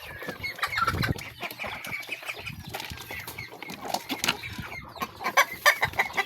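Pet hens cluck and squawk in a coop on an island farm, with repeated close clucks, brief wing flaps and scattered farmyard noise throughout.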